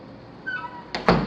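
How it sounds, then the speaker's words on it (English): Power windows on a car's interior doors running: a faint motor whine slides briefly, then two quick louder thuds as the glass stops, with no talk. "The windows are operating right."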